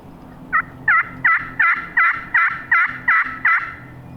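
A wild turkey gobbles in the hills: nine loud, evenly spaced calls repeat in a steady rhythm close by, with no voices.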